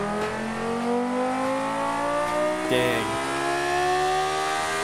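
A V10 engine with large bore and short stroke, built in a simulation game, revs hard through a test pull with rising harmonic whine and a sudden shift near the end; one brief spoken word over it.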